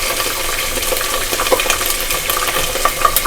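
Ginger and garlic frying in hot oil for beef haleem, a loud, dense, steady sizzle with crackling pops close by.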